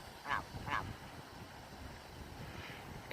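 Geese at Lower Barden reservoir on Barden moor in winter, two distinct honks in quick succession near the start, then fainter calls over an open outdoor background with a low rumble.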